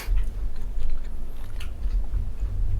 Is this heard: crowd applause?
no